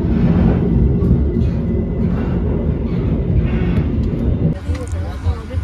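A Progo passenger train rumbles steadily on the rails, heard loud and continuous from inside as it departs and pulls into Gombong station, with a brief shift in the noise near the end.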